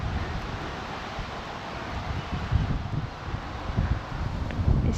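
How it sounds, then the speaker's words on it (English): Strong wind buffets the microphone on an exposed hilltop beside a tall carved standing stone. A constant low roaring rumble swells in gusts, with no voices. "It's still very, very windy up here."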